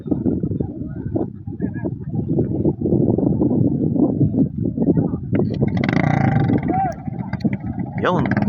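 A boat's motor drones steadily beneath continuous talking at a boat race in Brgy. Aplaya, with splashing water and a few sharper chirps near the end.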